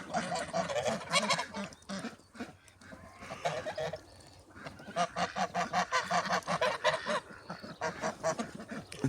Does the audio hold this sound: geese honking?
yes